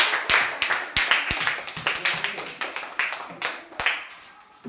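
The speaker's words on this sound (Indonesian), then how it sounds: "tepuk tangan buat kelompok 3" Applause from a classroom audience after a group presentation, a dense patter of many hands clapping close by, steady through the whole stretch with a few sharper claps standing out.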